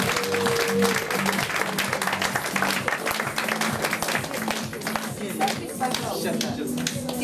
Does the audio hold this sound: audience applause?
yes